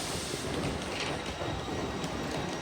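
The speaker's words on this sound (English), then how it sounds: "But off he goes bound for London King's Cross." An LNER Azuma express pulling out of Leeds station for London King's Cross, a steady broadband rumble of rolling carriages heard from the platform, fairly distant and continuous, with no voices.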